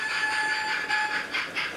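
Two J36 model steam locomotives run around a home model railway layout, giving a continuous whirring motor whine with faint rhythmic clicking of wheels over track and no voices.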